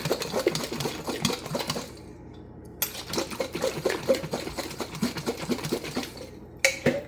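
A hard boiled egg rattles inside a closed container as it is gently shaken to crack the shell, giving rapid, close clattering knocks in bursts with two brief pauses.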